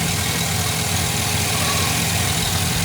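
A GMC Denali truck engine idles steadily at close range with a failing alternator, making a constant droning hum that does not change.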